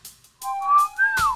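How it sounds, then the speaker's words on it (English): A short whistled melody, clear tones sliding up and down with a brief pause, then a rising note that falls off at the end. "I really suck at whistling."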